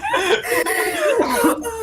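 A person coughs a few times in quick, rough bursts mixed with chuckling laughter, close and fairly loud during a tabletop roleplaying game session.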